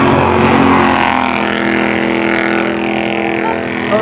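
Bandolero race cars roar around the track at Sunny South Raceway, a loud close engine drone with rising and falling pitch over four seconds, a high whine fading near the end.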